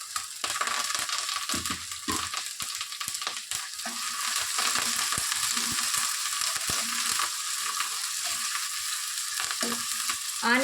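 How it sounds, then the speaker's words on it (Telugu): Onions and curry leaves frying for egg semiya upma, a continuous close crackling sizzle in the pan with intermittent stirring scrapes and clicks throughout, no talking. "ఆనియన్స్ని మరీ ఎక్కువగా కూడా ఫ్రై చేయొద్దండి, కొంచెం లైట్గా మెత్తపడితే చాలు"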